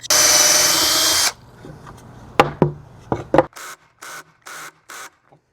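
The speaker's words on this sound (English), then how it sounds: "I'm going to use my countersink drill bit to drill these holes." A power drill with a countersink bit whirs loudly for a second, followed by clicks and knocks, then several short bursts of drilling holes in a row.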